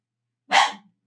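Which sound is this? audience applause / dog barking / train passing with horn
dog barking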